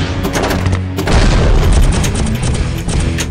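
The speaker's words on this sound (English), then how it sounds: "The sound effects on this table are like, whoa! Are pretty incredible." Iron Man Stern pinball table from 2014 firing loud booming explosions and rapid gunfire-like blasts, dense and continuous with heavy low rumble.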